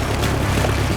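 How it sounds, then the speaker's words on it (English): A boat arriving at an island in a cartoon, a continuous loud rushing wash of water and motor noise with no voices. "Suddenly they hear a noise and look closer to see that Spike has arrived on his boat."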